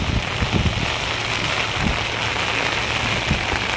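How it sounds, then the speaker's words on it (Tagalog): Heavy rain lashes down at Harbour Square on Manila Bay, a dense, loud and steady roar of drops that fills the whole stretch without pause or voices. "Ang lakas ng ulan, oh."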